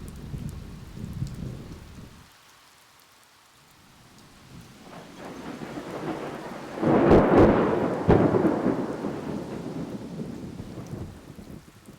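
Rain falls steadily during a thunderstorm, briefly quieting before a deep roll of thunder builds and booms loudly, then rumbles away over the continuing rain.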